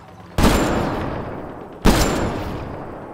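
Turrets firing in the video game Mass Effect Andromeda, two sharp loud blasts about a second and a half apart, each with a long decaying echo.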